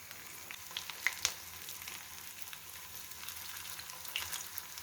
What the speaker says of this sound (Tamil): கொஞ்சம் மீடியம் ஃப்ளேமில் வச்சு நம்ம இதை ஃப்ரை பண்ணி எடுக்கலாம்